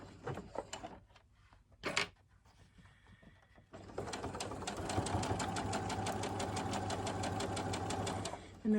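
Sewing machine fitted with a zipper foot, back-stitching along a zipper: a few clunks of handling first, then a steady, fast, even run of stitching for about five seconds, close and loud.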